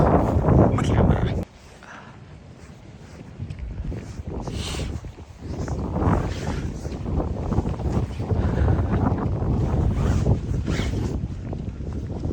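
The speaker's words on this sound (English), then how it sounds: "it's so windy" Strong winter wind buffets the microphone outdoors near a frozen waterfall, loud gusting roars that drop away briefly and then return, with someone talking over the blasts.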